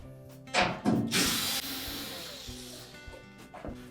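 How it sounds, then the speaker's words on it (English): A power driver backs out 1/4 inch hex head screws from the top panel of a GE washer, with short whirring bursts and metallic rattles up close, then fading to quiet handling noise. "Now our next step will be to remove these two screws that secure the main top to the cabinet."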